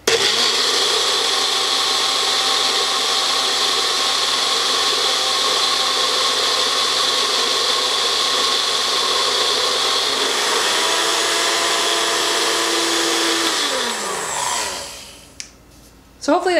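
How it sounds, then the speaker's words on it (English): A blender whips cream for a keto fat bomb, a loud, steady motor whine that runs close and alone for about fourteen seconds. Its pitch shifts partway through, then it winds down and stops, ending in a few faint clicks. "when I turn this on, you'll be able to hear that when it starts blending, and then it kind of changes its tone when it's done whipping"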